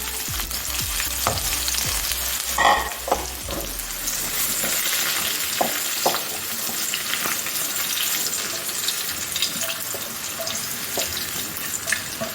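Capsicum fries in a pan with a steady, close sizzle and crackle, broken by several sharp stirring clinks and scrapes, and no one talks.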